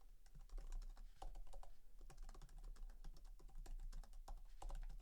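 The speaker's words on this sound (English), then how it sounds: "I'm gonna start typing this up" Steady typing on a computer keyboard during a Magic: The Gathering stream, dense rapid key clicks in uneven bursts, close and clear with a low background hum and no talking.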